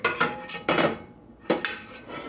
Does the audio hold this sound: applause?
no